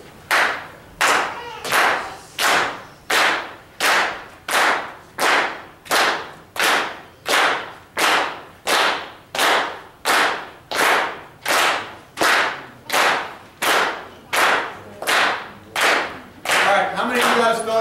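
A group at a drum clinic claps along in unison, a steady, evenly spaced beat of about twenty sharp, loud claps that keeps a firm tempo before dissolving into looser sound at the end.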